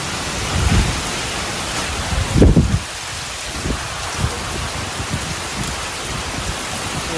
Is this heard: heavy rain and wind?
yes